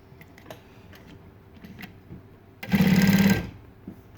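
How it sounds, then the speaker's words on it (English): Juki DU-1181N industrial walking-foot sewing machine stitching through fabric in one short loud burst of rapid even needle strokes lasting under a second, amid quiet handling clicks before and after. "Actually, I'm going to just sew through this one."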